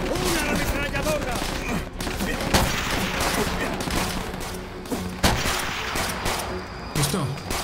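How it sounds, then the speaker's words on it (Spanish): Sustained machine gun fire and scattered shots crackle loudly through a Call of Duty: World at War battle, nearly continuous, with voices shouting beneath the din. "¡Una ametralladora!"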